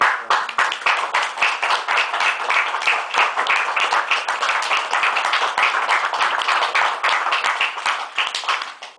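An audience at a Dublin arts centre reading claps for a Bulgarian writer, dense, sustained hand-clapping close by that runs steadily throughout and tapers off at the close.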